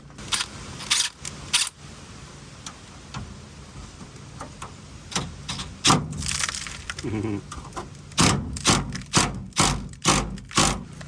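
A twisting, nearly broken bumper bracket bolt being slowly backed out on a damaged rear bumper, producing repeated sharp close clicks and knocks in uneven bursts, growing denser toward the end.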